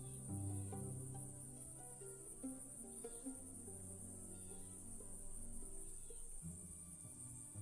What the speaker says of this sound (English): I hope you can hear the crickets.